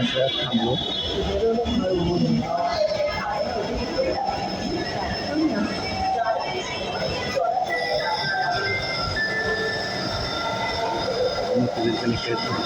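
A metro train runs from Motijheel, giving a continuous rumbling roll with squealing wheels and faint clicks, heard from on board or on the platform while people talk.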